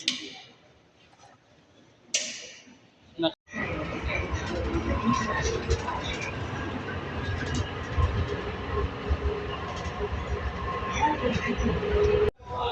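A passenger train riding the rails, a steady low rumble with faint rattling and clicks that carries on for about nine seconds after a brief quiet stretch with a few bumps.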